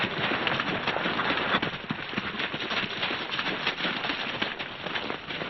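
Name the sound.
horses hooves clip-clopping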